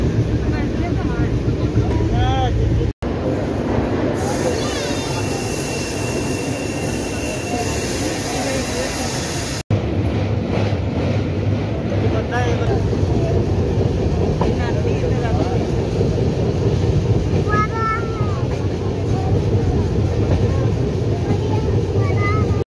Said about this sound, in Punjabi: ਸਾਡੀ ਟ੍ਰੇਨ ਅੰਬਾਲਾ ਕੈਂਟ ਤੋਂ ਨਿਕਲ ਚੁੱਕੀ ਆ